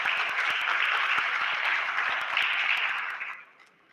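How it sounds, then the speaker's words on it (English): An audience at an award event in Lagos, Nigeria applauds for an international organisation, with steady dense clapping throughout that fades out near the end. "a round of applause, please, for Helfer International"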